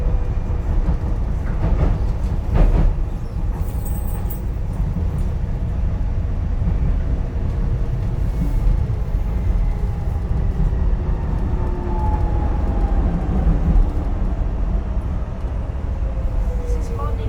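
A DLR light-rail train runs between Canary Wharf and Stratford in London, its steady low rumble and rolling wheel noise filling the carriage continuously, with a faint tonal whine rising and falling partway through.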